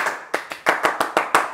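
Seven crisp hand claps open a casual Indonesian podcast. They fall in a quick, slightly uneven rhythm, close and clear, with no voice over them.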